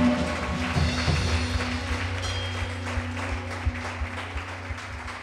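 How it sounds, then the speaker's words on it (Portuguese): A church congregation claps together in a worship service, a steady, broadband patter of many hands sustained throughout and gradually easing off toward the end, with a low musical hum underneath. "Aplauda o Senhor."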